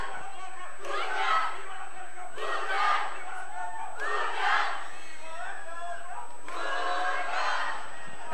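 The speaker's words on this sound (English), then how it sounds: "You could hear the Bhutan fans cheering now." Bhutan football fans roaring and chanting in the stadium during a World Cup qualifier against Sri Lanka, swelling in loud rhythmic waves of crowd voices with brief dips between surges.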